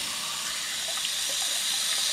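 A bidet sprays water steadily into a toilet bowl draped with a towel, producing a close, continuous hiss and splash with no break.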